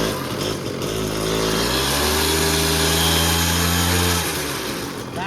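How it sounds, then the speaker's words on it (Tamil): A superbike engine revs under the throttle, climbing to a strained high whine, holding there, then dropping back toward a rough idle. It is loud and close, with no talking over it. "இதோட த்ராட்டல் சவுண்ட் நீங்கள் கேட்டிங்கன்னா நல்லாயிருக்கும்"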